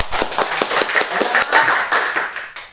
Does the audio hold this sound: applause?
yes